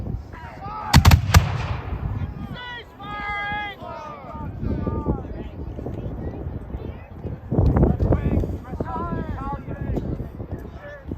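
During a battle reenactment, a musket volley cracks out loud and close early on, and a second burst of firing comes later. Shouted commands and other voices run between the shots, and horse hooves clop in the background.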